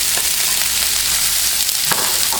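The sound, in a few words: onion and peas frying in oil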